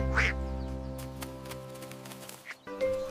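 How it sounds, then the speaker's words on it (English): Two ducks quacking in a children's counting song, several bright nasal quacks set over a steady musical backing. "2 ducks. Quack, quack"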